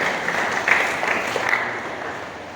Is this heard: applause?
yes